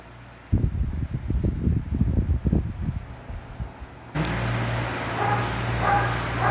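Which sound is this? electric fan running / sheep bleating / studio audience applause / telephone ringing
electric fan running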